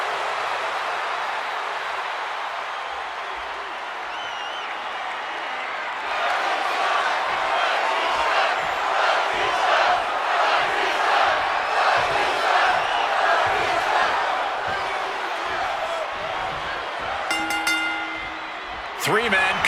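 Arena crowd noise from the WWE 2K26 video game rises into sustained cheering and chanting for CM Punk, loud and continuous throughout, with a brief sharper burst near the end.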